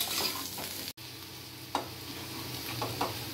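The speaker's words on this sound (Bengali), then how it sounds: "আমি এখানে একসাথেই ভেজে নিচ্ছি, প্রথমে একটু ভেজে নেব।" Young jackfruit pieces sizzle in a hot pan while a utensil stirs them, producing a steady frying hiss broken by a brief gap and a few scraping strokes against the pan.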